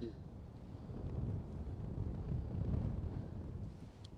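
Strong wind blowing across the golf course at St Andrews during the AIG Women's Open, a steady low roar buffeting the microphone that swells and eases over a few seconds.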